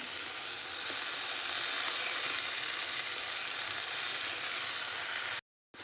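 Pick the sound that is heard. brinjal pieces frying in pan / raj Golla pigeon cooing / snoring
brinjal pieces frying in pan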